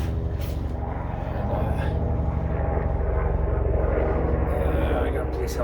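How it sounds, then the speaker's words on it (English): A police helicopter passes overhead, its steady engine and rotor drone loud and continuous with no break in level. "I got a police helicopter flying over again"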